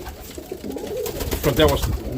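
Roller pigeons coo in a loft, a soft, continuous low burbling murmur with a faint voice underneath.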